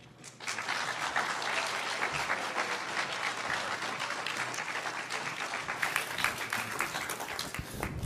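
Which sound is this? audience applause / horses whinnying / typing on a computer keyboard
audience applause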